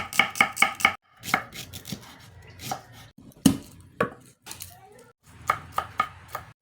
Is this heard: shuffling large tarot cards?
no